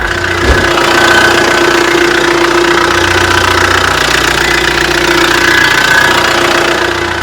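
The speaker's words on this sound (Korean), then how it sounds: "이제 바로 엔진 시동 걸었으니까 엔진 소리까지 한번 들려드리도록 하겠습니다." A Kia Grand Carnival minivan with manual transmission idles steadily and loudly nearby, a constant low rumble with a faint rhythmic knock and no voices.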